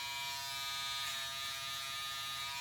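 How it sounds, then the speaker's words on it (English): An electric hair trimmer squares off a sideburn during a men's undercut haircut, giving a steady, continuous close buzz throughout with no talking. "I'm just going to square it off just like that with the trimmer"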